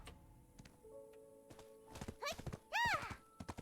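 Hooves clip-clop at a steady trot in the video game Black Desert Online, followed by a horse's high whinny near the end, with faint background music underneath.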